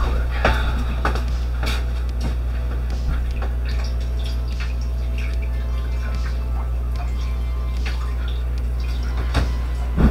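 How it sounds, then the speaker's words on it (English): Running tap water splashing steadily as something is rinsed off in a kitchen sink, a constant close wash of water with a low hum beneath and occasional clinks and drips. "let's rinse that off real quick."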